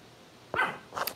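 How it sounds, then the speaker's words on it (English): Dogs bark indoors: two short, sharp barks about half a second apart, fairly close and moderately loud over a quiet room. "What are y'all barking about"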